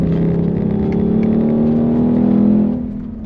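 A car engine on a racetrack roars loud and close, a sustained climbing drone that holds strong then drops away near the end.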